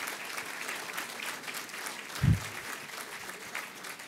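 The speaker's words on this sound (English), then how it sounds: "let's give him a round of applause" A live audience at an event with the Chancellor of City Colleges of Chicago breaks into steady applause, a dense wash of clapping heard from the room at moderate level with one brief low thump partway through.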